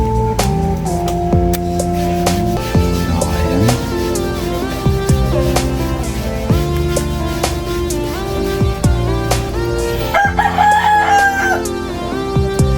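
A rooster crows near the end, set against loud, continuous melodic electronic tones, like a ringtone from a Tecno phone.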